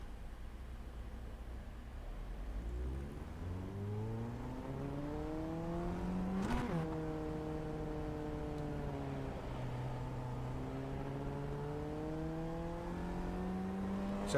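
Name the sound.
Formula Ford 1600 race car lapping at Okayama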